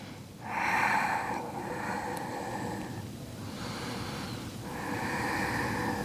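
Slow, steady breathing during a morning yoga flow, with long audible inhales and exhales in repeated cycles, close and clear with no talking.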